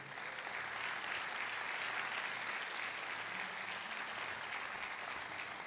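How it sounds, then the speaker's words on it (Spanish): Congregation applause during a church service, a steady dense wash of clapping held at even level throughout, fairly distant and with no talk over it. "dar un aplauso al Señor"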